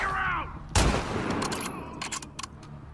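Hunting rifle fire in The Last of Us Part II: one loud, sharp close shot with a brief echoing tail, followed by a few fainter distant cracks and clatter, game music faint at the start.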